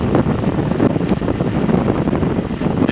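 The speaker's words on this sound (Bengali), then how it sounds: "এখন বেশ ঠান্ডা ঠান্ডা হাওয়া দিচ্ছে" Cold wind blowing on the road buffets the microphone in loud, continuous rumbling gusts with no voices.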